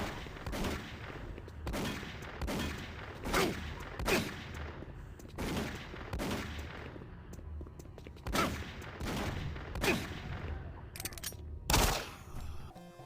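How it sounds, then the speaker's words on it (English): Enemy weapon fire in Doom 3: loud, sharp bursts of gunfire at roughly regular intervals, about a dozen blasts over thirteen seconds, each with a short echoing tail and no one talking. "I feel as though when enemies fire their weapons at you, their sound effect is way better."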